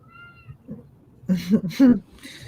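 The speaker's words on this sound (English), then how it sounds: "I hear a kitty cat." A cat meows twice in quick succession, close and fairly loud, followed by a softer third call, with quiet room noise in between.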